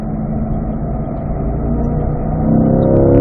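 A car engine revs on a mountain road at Spring Mountain, downshifting to third, with a loud low drone whose pitch climbs steadily toward the end of the stretch.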